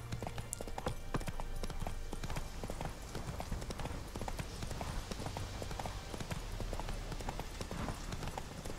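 A horse's hooves clip-clop in a fast, continuous rhythm as it rides along a road in the Witcher 3 video game, heard faintly under a low game background.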